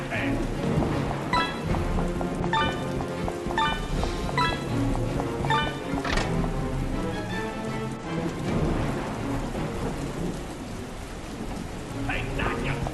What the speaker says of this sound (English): This be no normal storm.